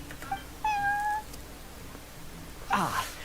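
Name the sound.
cat meowing in video game Genshin Impact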